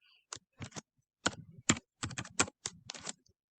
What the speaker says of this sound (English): type it correctly into my calculator